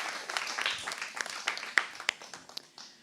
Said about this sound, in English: A round of applause for our 7th place winner.